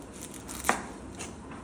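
A single sharp knife tap on a board, chopping onion, stands out once against a faint kitchen background.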